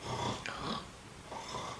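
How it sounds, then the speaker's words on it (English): A person on request in a sleep-study session snores twice, two soft rasping breaths, faint and close in a quiet room. "Snore for me."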